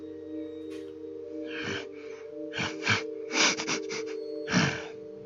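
A voice grunts and snorts in short, breathy bursts, imitating an animal call, several uneven snorts over a few seconds.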